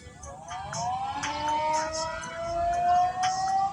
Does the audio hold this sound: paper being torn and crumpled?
no